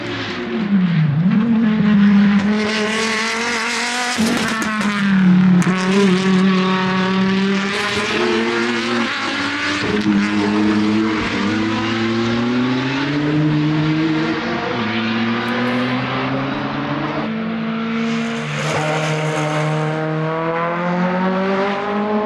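Race cars at the Nürburgring 24-hour race roar past one after another, loud and close, their engines rising and falling in pitch as each car approaches, passes and fades, with no talk over the continuous engine noise.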